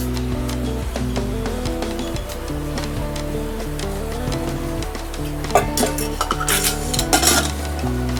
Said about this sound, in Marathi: मी गॅस लावते आणि त्याच्यात कढई ठेवते